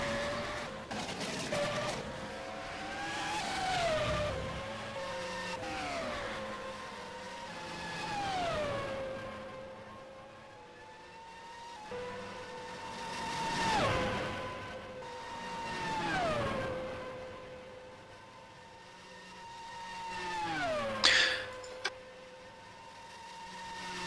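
Race cars in a racing video game at the Indianapolis United States Grand Prix circuit whine past repeatedly, each pass rising and dropping in pitch in a steady rhythm, with a tire squeal near the end.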